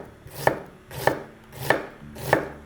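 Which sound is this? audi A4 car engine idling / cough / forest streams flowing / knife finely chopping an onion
knife finely chopping an onion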